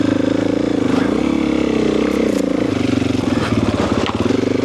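Husqvarna FE 501 four-stroke dirt bike engine running loud and close, a steady throaty drone with slight revving swells throughout.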